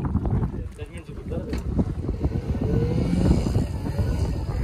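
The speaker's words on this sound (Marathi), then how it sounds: "काकाने रिवर्स मारली आहे बोट" A boat reversing on the sea near Tsunami Island in Malvan, its motor a steady low rumble under heavy wind buffeting, with people talking over it.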